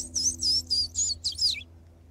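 An Indigo Bunting sings a quick run of six bright, high chirps in close succession, the last ones slurring together. The song is clear and fairly near against a quiet outdoor background.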